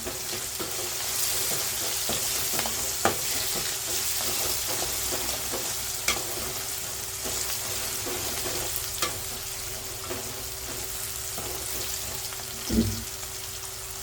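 Onions fry with asafoetida and curry leaves in a pan for an okra tamarind kuzhambu, a steady close sizzle with occasional spatula taps and scrapes as everything is stirred, with no voices.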